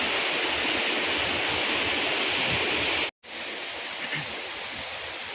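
A waterfall at Trimbakeshwar, set in forest, pours as a dense, loud, continuous roar close by, broken only by a momentary dropout midway, with no talking.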